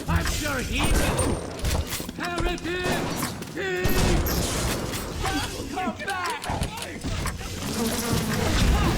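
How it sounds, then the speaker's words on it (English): A swarm of bees launched at an enemy in BioShock buzzes and drones amid sharp bursts of combat noise, dense and loud, with someone talking over it. "Just gonna launch some bees at it"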